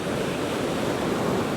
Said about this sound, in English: Waves are getting bigger and bigger as this bay fills up.